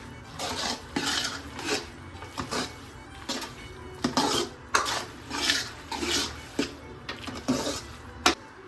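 A utensil scrapes and clinks against a pan as creamy white sauce pasta is stirred at home, a steady irregular rhythm of soft knocks and scrapes, fairly quiet and close, with no voices.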